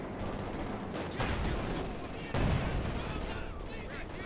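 Battle in the Company of Heroes 2 strategy video game, with dense rattling gunfire and booming artillery blasts layered in a loud, continuous barrage, a heavy impact landing midway through.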